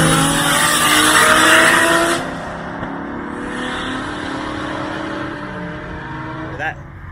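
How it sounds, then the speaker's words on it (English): A 600 hp Toyota Supra on the Goodwood circuit, its engine loud and close as it roars past before fading to a steady distant drone, with a brief tyre chirp later and voices faintly underneath. "Supra. Sounds phenomenal."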